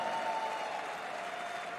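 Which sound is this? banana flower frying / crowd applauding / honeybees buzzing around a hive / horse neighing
crowd applauding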